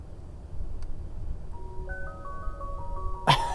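A tinkly electronic ice cream truck melody plays faintly from a Tesla Model S Plaid over a low rumble, followed by a sharp bright burst at the end.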